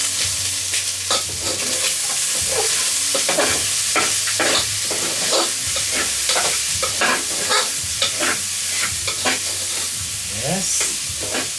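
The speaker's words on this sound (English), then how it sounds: "Let me just stir it a bit." Onions frying in a pan as lunch of liver is prepared, a loud close sizzle under rhythmic spoon scraping and stirring strokes repeating through the clip, with no talking.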